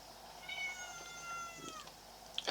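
A single drawn-out cat meow with clear harmonics rises and then falls, heard alone against quiet background noise and followed by a brief soft rustle.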